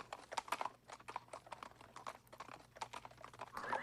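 Horses carry mounted officers toward the German border, their hooves clip-clopping in a steady, fairly faint rhythm of many overlapping steps.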